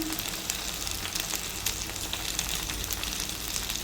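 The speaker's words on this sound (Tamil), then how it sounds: "நல்லா இப்போ வதக்கிடுங்க." Spicy chicken sautéing in a pan, frying and sizzling steadily and fairly close, with faint stirring and no voices.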